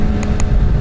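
A Kawasaki ZX-6R motorcycle engine is held at about 10,000 RPM, giving a brief, loud, steady high-revving roar close to the microphone with a couple of faint clicks.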